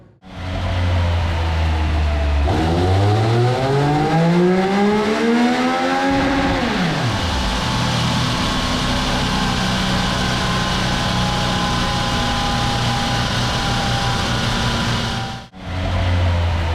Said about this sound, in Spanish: Llega el momento de irnos al banco de potencia y verla dándolo todo en los rodillos.